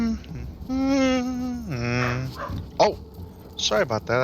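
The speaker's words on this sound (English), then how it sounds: "That's my dog protecting the apartment." A pet dog barks inside an apartment, several loud close yaps and drawn-out bark-whines in quick bursts, while someone talks over and between them.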